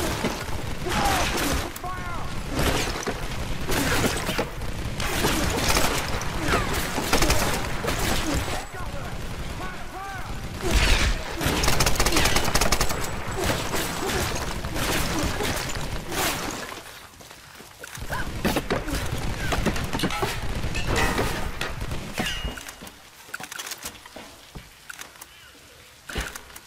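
Repeated gunfire in a Tomb Raider game, with sharp shots and mechanical clatter recurring over a long, busy stretch mixed with voices and ambient noise, fading into quieter gaps toward the end.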